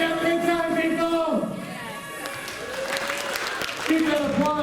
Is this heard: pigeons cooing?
no